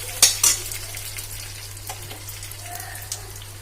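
A couple of sharp crackles at the start give way to a soft, steady sizzle as cumin, mustard seeds, chana dal, dried red chillies and curry leaves fry in hot oil, with occasional light stirring, close by.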